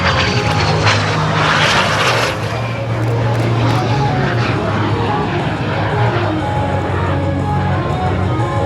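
A de Havilland Vampire, the oldest flying military jet, roars loudly and steadily overhead in a continuous engine drone that swells slightly, with crowd noise and talk faintly beneath.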